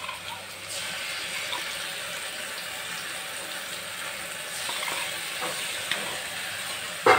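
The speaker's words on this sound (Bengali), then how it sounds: "আবারও ভালো করে মিশিয়ে নেব মশলাটা এবং কষতে থাকবো যতক্ষণ না এটা থেকে তেল বের হয়।" A chicken kosha spice paste cooks with tomato in a pan, making a soft steady frying hiss with faint stirring and scraping now and then, close up and with no talking.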